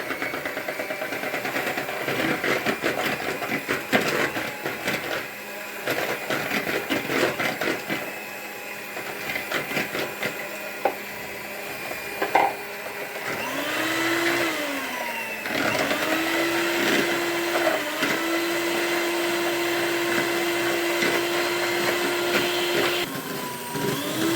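Electric mixer whirring steadily for honey cake batter as sugar is added bit by bit to beaten eggs, a continuous motor drone with shifting pitch, no talking.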